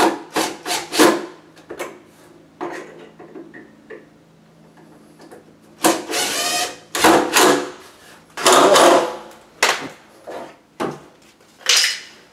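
Hand plane shaving the edge of a sticking wooden door, heard as a series of loud, close rasping strokes in bursts with brief pauses between them, no talking.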